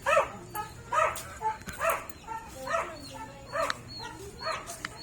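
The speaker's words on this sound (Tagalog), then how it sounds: "May aso pala." A dog barks repeatedly in short, evenly spaced yips, moderately close, with a faint steady hum in the background.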